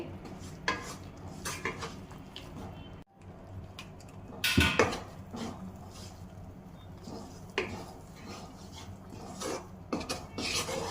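A thickening carrot, beetroot and coconut burfi mixture stirred in a pan, with steady scraping and rubbing of a utensil against the metal and occasional sharper clinks, continuous and close.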